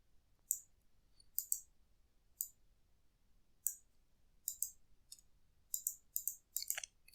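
Sharp computer mouse clicks come one at a time and sometimes in quick pairs, at irregular intervals over a quiet room, close and crisp, with a short burst of clicks near the end.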